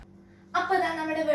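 Curry leaves hit hot coconut oil in a pan for a fish curry, setting off a sudden loud, continuous sizzle after a short quiet start.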